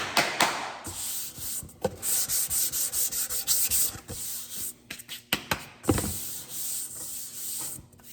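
A car panel is block sanded by hand with sandpaper that keeps clogging, giving a close, rhythmic run of rasping strokes that speeds into a quick series of short rubs before slowing to a few scattered passes.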